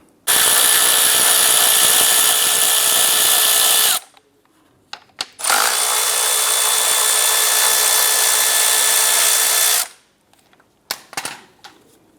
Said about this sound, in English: We're going to loosen and remove both of those